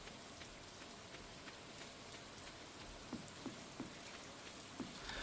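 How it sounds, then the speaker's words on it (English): Soft, steady rainfall patters in the Stardew Valley farming game, a faint even hiss with scattered light droplet ticks, alone and without talk. "It's raining, which is good."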